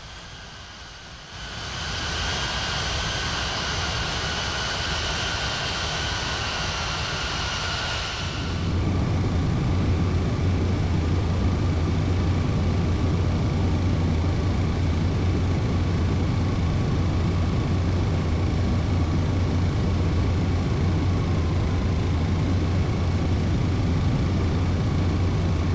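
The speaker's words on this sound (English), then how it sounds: "the landing of this 737-800 travel service, landing at Vienna Airport in Austria at night" A Boeing 737-800 lands at Vienna Airport at night in the iFly flight simulator game, a broad steady engine and airflow roar that shifts to a deeper rumble partway through and holds loud to the end.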